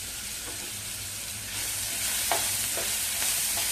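Green chili paste and cumin being sautéed in a pan, a steady close sizzle that grows a little louder partway through, with light stirring scrapes and no talk.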